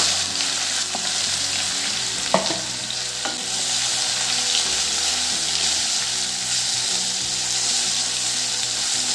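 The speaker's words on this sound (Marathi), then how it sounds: "तापलेल्या तेलात मी आता मोहरी टाकते जिरं हिंग आता आपण हे कारले टाकून घेऊ" Sliced bitter gourd frying in hot oil with mustard seeds, cumin and asafoetida, a steady dense sizzle throughout with a couple of sharp spatters and faint stirring clinks, close and unbroken by any voice.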